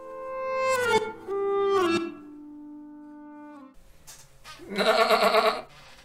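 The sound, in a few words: goat bleating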